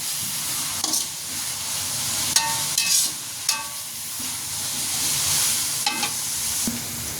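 Garlic, onions and chillies fry in a pan for a dish of Malabar spinach with potatoes, giving a steady close sizzle with occasional scrapes and taps of a spatula stirring them, and no talk.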